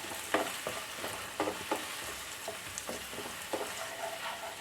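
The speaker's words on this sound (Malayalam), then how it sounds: "ഒരു ടീസ്പൂൺ ജിഞ്ചർ പേസ്റ്റ് കൂടെ നമുക്ക് ചേർക്കാം പച്ചമണം ഒന്ന് മാറി വരുന്നവരൊന്ന് വഴറ്റിയെടുക്കാം" Ginger paste sizzles in a hot pan for egg roast while a spoon stirs it, with steady frying hiss and several distinct scraping strokes at a moderate, even rhythm.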